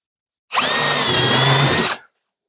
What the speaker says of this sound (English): I'll put the remaining screws in up top and do one in the middle here